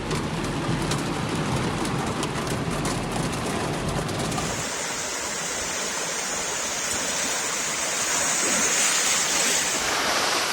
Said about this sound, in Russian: Ливень длился час, улицы столицы затопило, местами вода до бамперов автомобилей